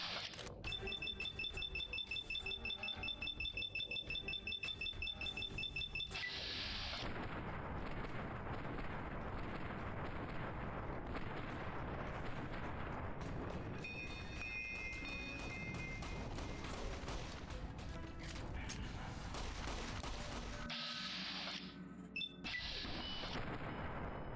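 Heavy booming gunfire and explosions roll through Fallout: New Vegas, a dense continuous barrage of loud blasts with shifting rumble and crackle and no clean gaps between shots.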